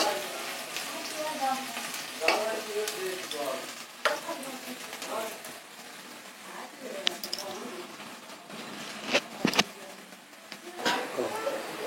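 Crushed onion and garlic fry in a pan with a steady close sizzle, broken by the scrape and clatter of stirring now and then.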